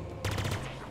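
A rapid burst of gunfire from a gun in Halo Infinite, several quick shots running together for most of a second, close and fairly loud over a low steady game hum.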